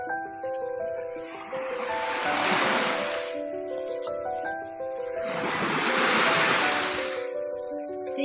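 Surf washing onto a beach in the Philippines on a cloudy day, two broad swells of breaking waves rising and fading over a steady roar of water, with no voices.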